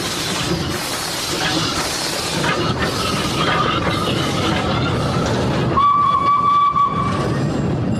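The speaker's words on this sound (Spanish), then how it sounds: "Son locomotoras venerables, las más antiguas a vapor del mundo," An antique steam locomotive still in service hauling sugar cane chuffs and rumbles loudly nearby, then a sustained steam whistle blows near the end over the rolling train noise.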